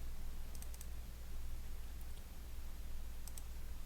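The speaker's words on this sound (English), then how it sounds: "hit C as in center on my keyboard" Single computer keyboard keys pressed during vector drawing work, a few quiet isolated clicks over a low steady hum, no voices.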